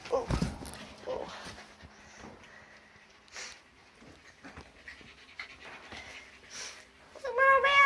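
Border collie puppies, including a blue merle, pant and whimper close by in a lively, restless jumble of small breaths, snuffles and squeaks, ending in a sharper high whine.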